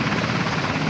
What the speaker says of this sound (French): Vous voyez les hélicoptères derrière, c'est là qu'on les conduit